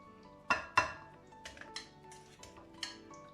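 A spoon mixes date juice ingredients in a bowl, giving a few sharp clinks at first and then lighter, irregular taps and scrapes against the bowl, close and fairly quiet.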